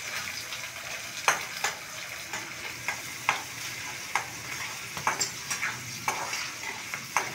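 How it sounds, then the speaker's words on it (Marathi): Green peas stir-roasting in a pan for mutter paneer biryani: a soft continuous sizzle broken by irregular spatula clicks and scrapes, close and quiet, without talk. "मटार ही छान भाजून घ्यायचं आहे आपल्याला."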